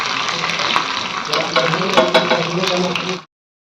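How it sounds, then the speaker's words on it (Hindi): Green chilies splutter and crackle in hot oil for a Bihari home-cooked dish, a dense close sizzle with sharp pops throughout, under faint background voice, ending abruptly. "फिर इसमें डालते हैं मिर्ची, बहुत ये फड़फड़ कर रहा है"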